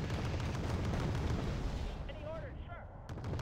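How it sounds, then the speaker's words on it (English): Heavy mortar explosions and artillery booms in the Wargame: Red Dragon strategy game, a dense rumbling barrage with overlapping bursts while voices shout over the din. "Mortars fire! Danger close!"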